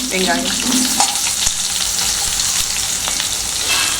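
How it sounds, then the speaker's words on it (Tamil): Onions frying in a pan with curry leaves and green chillies for carrot rice, a loud close sizzle with a continuous crackle and occasional scrape or tap of a stirring spoon. "வெங்காயத்தை வெங்காயம் போட்டு நல்லா வதக்கியாச்சு. நல்லா ஃப்ரை ஆயிடுச்சு."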